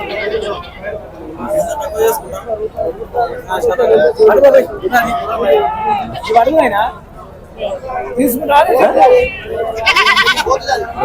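Goats bleat repeatedly amid a busy crowd at a goat market in Gadwal district, with people chattering and calling out close by.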